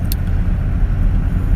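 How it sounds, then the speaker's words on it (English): A car engine idling steadily inside an automatic car, a loud, close, continuous low rumble with one brief click near the start and no speech. "I'm going to leave the car running"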